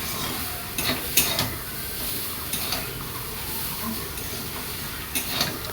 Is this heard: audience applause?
no